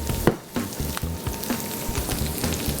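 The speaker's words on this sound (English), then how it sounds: "So now we're gonna add our chopped onion," Chopped onion hits a hot pan that has just seared steak, giving a steady close sizzle with a few light stirring clicks.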